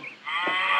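A single cow lets out a short, nasal moo in a McDonald's-themed video game, close and clear with nothing else around it.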